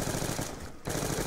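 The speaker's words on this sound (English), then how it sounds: "I gotta use the ray gun" Rapid energy-weapon fire from a ray gun in Black Ops 2 Zombies, a dense stream of shots with a brief gap near the end before the burst resumes, loud and close.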